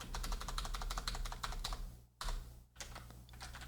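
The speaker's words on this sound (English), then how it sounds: "I have this new keyboard and I really like it, but it's So clicky." Someone types quickly on a new, loud clicky computer keyboard, a dense rapid clatter of keystrokes heard up close with two brief pauses near the end and no talking.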